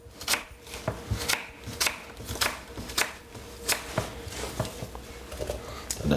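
Repeated knife chops on a cutting board, about a dozen fairly regular taps of a green apple being cut into small pieces, nearby and without speech.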